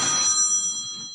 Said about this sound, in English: Uh-oh, phone ringing.